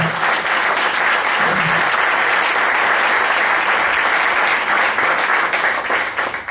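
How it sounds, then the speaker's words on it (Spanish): Congregation at a church service giving a loud, sustained round of applause, dense clapping from many people that continues evenly before tapering off at the close. "Un aplauso al Señor."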